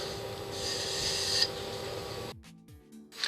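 A segmented wooden bowl is sanded to 400 grit, a close rasping hiss of abrasive on wood that runs steadily and then stops abruptly, leaving brief faint handling sounds.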